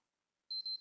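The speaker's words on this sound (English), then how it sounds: "again single beep" A PS3 console gives a single short electronic beep while being powered on. It is a clean, steady tone that starts abruptly midway after silence, with no talk.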